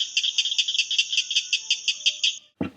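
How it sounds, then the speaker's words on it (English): Southern cricket frog calling in a rapid series of about twenty sharp, clicking pulses, loud and close, with a brief different noise at the very end. "And here's the southern cricket frogs."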